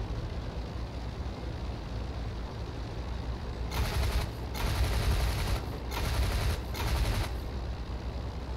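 Machine gun fire from a Sopwith Camel in the Flying Circus flight game, several short sustained bursts over steady engine drone, fairly loud and close.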